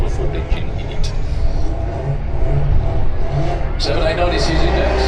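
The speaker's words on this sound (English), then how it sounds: "Jenkins going to be on a bye run with the Fraudster" A drag car called the Fraudster, a Ford body fitted with a non-Ford engine, makes a solo bye run at a drag strip. Its engine drones loud and steady, then swells near the end, while a commentator talks over it.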